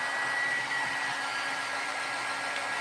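Hair dryer blowing steadily and close up while drying a watercolor painting, a constant even whoosh with no talk.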